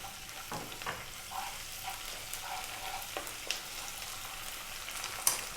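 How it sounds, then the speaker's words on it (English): Garlic ginger paste fries in a pan for an Indian vegetarian rajma dish, giving a faint, steady sizzle with a few light clicks and scrapes from a utensil. "Now we'll add the 1 tablespoon of garlic ginger paste."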